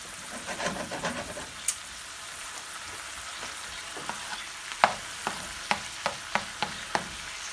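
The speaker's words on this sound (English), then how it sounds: "You just want to let your eggs fry and let some of this salsa sort of make contact with your eggs" Eggs frying in a pan with salsa, a soft steady sizzle with a run of sharp crackles and pops growing more frequent toward the end, close and fairly quiet with no talking.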